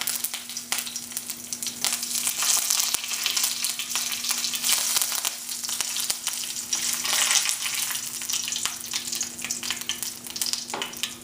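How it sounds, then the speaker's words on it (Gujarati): Mustard seeds and curry leaves sizzle and crackle steadily in hot oil for a potato fritter dish, with a dense, continuous frying hiss close up and no voices. "આ તેલમાં ગરમ થઈ ગયું છે તો આપણે નાખશું રાઈ"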